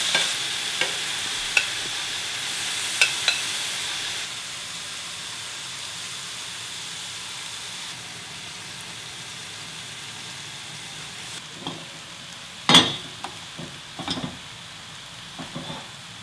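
Sliced king oyster mushrooms marinated in bulgogi sauce grill in a pan, giving a steady, close sizzling hiss that holds throughout, broken by a few sharp clacks and scrapes of utensils toward the end.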